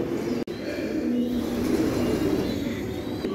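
Home-bred pigeons coo on a farm, a low steady cooing that carries on throughout against a soft, even background.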